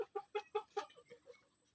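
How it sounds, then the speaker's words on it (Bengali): Domestic chickens clucking close by, a quick series of about five sharp clucks followed by softer, trailing ones, fairly faint overall. "এগুলো রিয়াদের মুরগি"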